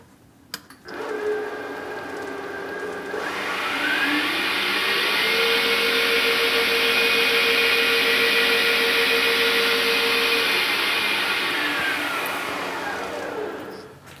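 A lathe fitted with a cheap eBay 5C collet chuck on its back plate spins up from a click into a rising motor whine, holds a loud, steady hum with a tonal ring, then winds down near the end.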